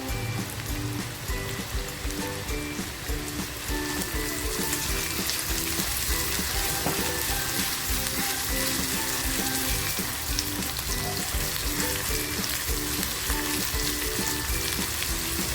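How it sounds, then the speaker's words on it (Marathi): Chopped onion dropped into well-heated oil, a continuous loud sizzling and crackling frying sound, close and steady throughout with no talking. "तेल छान तापले कांदा टाकते"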